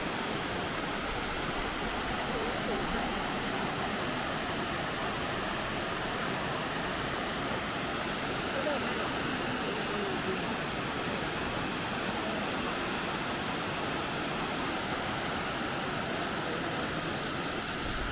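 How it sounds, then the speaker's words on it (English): Steady broadband rush of water pouring from a large lake down a cascade into a slow river in the grounds of Blenheim Palace, continuous and loud from start to finish, with no voices. "the water basically falls from the big lake above and then becomes sort of a slow river down here"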